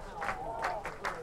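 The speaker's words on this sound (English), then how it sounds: "We got a cheer going in the crowd." A high school football crowd cheers in short rhythmic bursts, roughly four swells of voices within about a second, with the noise of the stands carrying underneath.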